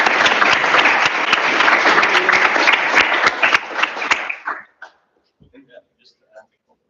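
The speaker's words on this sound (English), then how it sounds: "Round of applause, come on." Loud audience applause fills a student senate session hall with dense, steady clapping for about four seconds, then fading quickly into a few scattered claps and faint murmurs.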